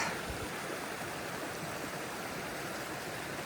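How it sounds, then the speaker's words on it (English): A creek along the Appalachian Trail rushes steadily, a continuous close wash of flowing water with no voices over it. "Right here is that beautiful creek"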